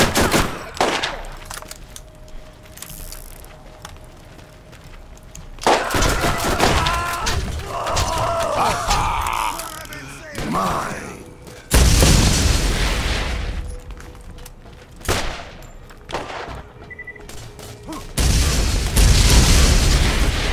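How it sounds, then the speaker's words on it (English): Gunfire in Borderlands, including shotgun and rocket-firing weapons, with bursts of shots, rapid automatic fire and heavy booming blasts in loud waves, some voice murmur mixed in. "Somebody's shooting."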